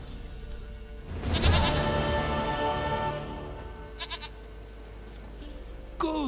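A goat in the video game The Witcher 3: Wild Hunt lets out a long, wavering bleat, followed by a few shorter bleats and a sharp sound at the end, loud and close.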